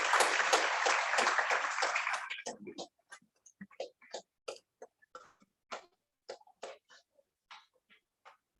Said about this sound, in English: So give a round of applause for Shah Fiza.